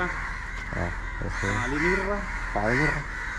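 A crow caws several times in short harsh bursts, fairly close, over a steady background hum.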